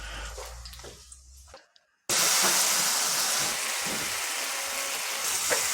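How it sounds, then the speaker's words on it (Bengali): Asafoetida (hing) hits hot oil and erupts into a loud, steady frying sizzle that holds on after a brief quiet moment, with earlier kitchen sounds fading out before it. "হিংটাকে একটু ভাজবো"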